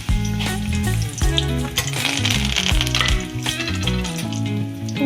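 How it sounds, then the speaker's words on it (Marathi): Curry leaves dropped into 3 to 4 spoons of hot oil in a kadhai sizzle loudly as tempering for Mumbai-style vada pav. The steady, close crackle runs throughout over a bed of tonal background music. "तर फोडणीसाठी आपण अगोदर कढीपत्ता टाकूया"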